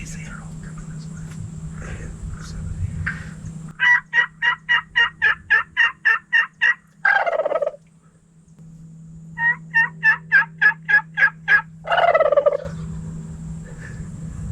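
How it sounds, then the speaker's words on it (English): Wild turkeys gobble loudly and close during a bowhunt, two long bursts of rapid, rhythmic gobbling separated by a quieter stretch, with a hen purring and clucking softly in between and a low steady hum underneath. "And she's purring and clucking like crazy"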